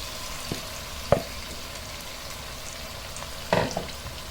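Marinated chicken and potatoes fry over a high flame, giving a steady soft sizzle broken by two sharp clatters of a spoon stirring in the pan.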